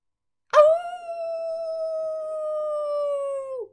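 A single voice imitates howling wind with one long, steady, rising-then-sustained tonal howl lasting about three seconds, close and clear against silence.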